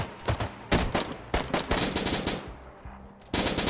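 Rapid bursts of gunfire in the video game DayZ, loud and close, with several sharp volleys and short pauses between them, some echoing automatic fire.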